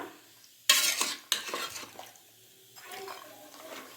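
A spoon stirs chili powder into goat head curry in a pressure cooker, with sharp metallic scrapes and clanks against the pot, two loud strokes followed by softer, wetter mixing sounds.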